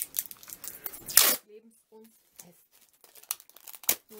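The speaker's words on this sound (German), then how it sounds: "Und dann nehmen wir das Klebeband." Adhesive tape is handled during a DIY project making concrete garden gnomes from socks, with a quick loud tearing rip followed by faint crinkles and small clicks, and a person speaking quietly.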